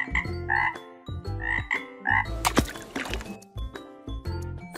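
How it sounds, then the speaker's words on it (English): A toy frog gives a series of loud, close croaks in an uneven rhythm, with a burst of wet, squishy clicks in the middle. "Frog."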